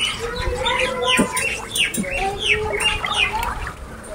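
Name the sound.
birds chirping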